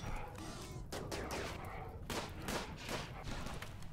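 Gunfire aimed at an Inferno Cannon in the RimWorld video game: repeated sharp shots in irregular bursts, several loud cracks standing out over a constant busy background, with no voices.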